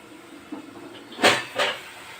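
A cooking pot lid lifting off with a couple of close, short metallic scrapes and clanks after a faint knock, against quiet room hiss.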